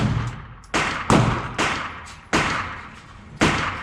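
Pistol shots from an Atlas Gunworks Athena at an outdoor range, five sharp cracks spaced unevenly about half a second apart, close and loud with short decaying tails.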